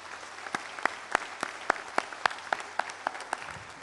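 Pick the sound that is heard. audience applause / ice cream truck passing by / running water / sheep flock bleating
audience applause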